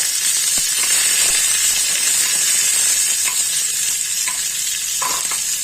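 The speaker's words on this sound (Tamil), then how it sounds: "நல்லா பொரியட்டும் கருவேப்பிலை" Fresh curry leaves fry in hot oil, giving a loud, continuous sizzle and hiss with faint stirring clinks, close up and without talk.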